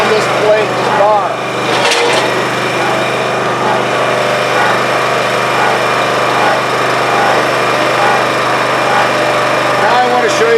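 Gas engine on a Rugged Split 37 ton log splitter runs loud and steady from start to finish, a continuous close mechanical drone with brief rattles and a person speaking over it.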